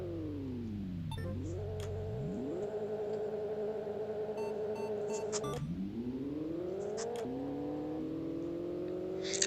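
A 55 Chevy hot rod engine races in the video game Pixel Car Racer, revving up through several gear shifts, each a rising whine that drops and climbs again, loud and steady with no talk.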